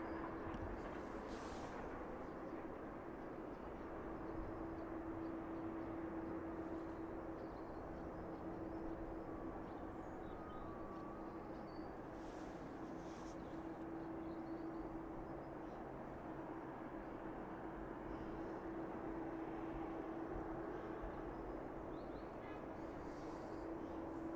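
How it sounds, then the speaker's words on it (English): A Cessna 152 departs East Midlands airport, a faint, distant steady engine drone sustained throughout under open-air background noise. "early departing Cessna 152 making its way back towards East Midlands now"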